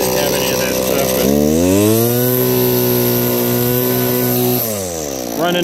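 A vintage Stihl 051 chainsaw with a two-stroke engine running on 16:1 fuel revs up from idle into a loud, sustained buzzing whine, holds steady, then drops back and picks up again at the end.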